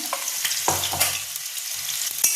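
Potatoes seasoned with salt and turmeric frying in hot oil, a sharp close sizzle with a few crackling bursts and stirring scrapes, no talking.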